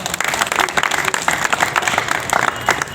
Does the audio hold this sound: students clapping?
yes